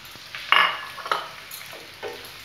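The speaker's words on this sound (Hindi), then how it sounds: "तेल गर्म है। और मैं प्याज को भी डाल देती हूँ," Onions going into hot oil in a pan for paneer chilli, with short bursts of sizzling and utensil stirring scrapes, near and fairly loud, no talking.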